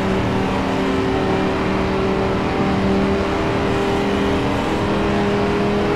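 A Ferrari race car engine drafting behind another car at the Nordschleife in the Gran Turismo video game, a loud, sustained high-revving roar with steady engine tones, constant and close with no pauses.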